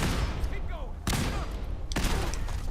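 Gunfire in Fallout 4, two loud, sharp bursts of shots cutting through a constant booming battle din, heard close and heavy, with other voices faintly mixed in.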